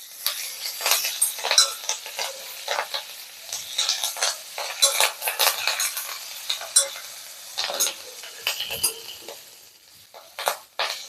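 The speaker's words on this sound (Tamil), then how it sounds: "கொஞ்சம் வதக்கிக்கலாம்." Curry leaves and green chillies sizzle and crackle as they are sautéed and stirred in a hot pan, a steady busy frying sound with repeated stirring scrapes throughout.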